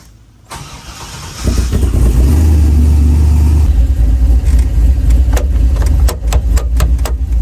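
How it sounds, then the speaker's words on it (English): A car whose seal has failed repeatedly, just refilled with fluids, starts up and then idles loudly and steadily nearby as it is put in drive and backed out, with a few sharp clicks near the end. "I put it in drive, and then I'm backing out."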